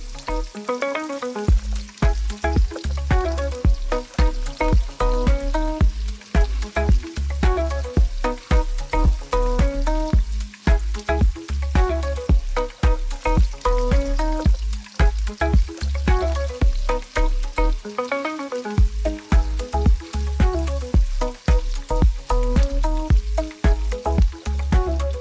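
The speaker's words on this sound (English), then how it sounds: "let it fry for a while." Sliced onion frying in vegetable oil in a heated pan, a steady dense sizzle with irregular crackles and stirring scrapes, loud and close throughout, with no one speaking.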